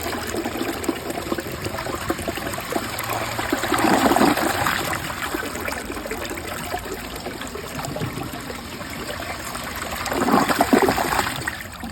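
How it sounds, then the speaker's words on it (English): A 2005 Crane toilet flushing with a Colosso flush: water gushes and swirls steadily, surging louder twice, then trickles and refills close by with no talk. "Now I'm gonna give it one more flush with a Colosso flush."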